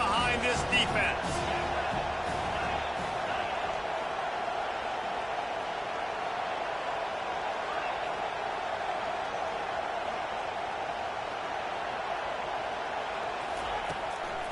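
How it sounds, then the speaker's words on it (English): A stadium crowd at an American football game roars in a steady, broad wash of noise during a big third-down defensive play, with a commentator talking over it. "Big third down as the crowd gets behind this defense"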